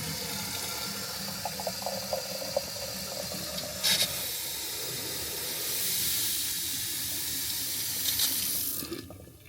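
Water runs steadily from the faucet into a deep sink inside a compact Casita travel trailer, a continuous hiss that swells slightly midway before cutting off near the end.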